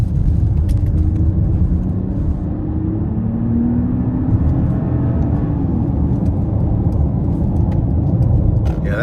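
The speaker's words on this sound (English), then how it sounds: "I'm gonna floor it coming out of this corner." A Mercedes-Benz GLE 450 Coupe in sport mode accelerating at full throttle out of a corner, a loud continuous low engine rumble and road roar heard from inside the cabin, rising slightly in pitch.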